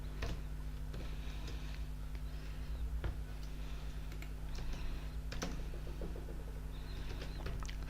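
Computer keyboard typing while writing VB.net code, quick irregular key clicks in short bursts, close and fairly faint over a steady low hum, no talk.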